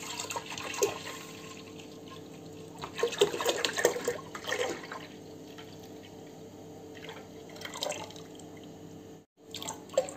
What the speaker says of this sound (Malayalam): നമുക്ക് പാല് ഒഴിക്കാം.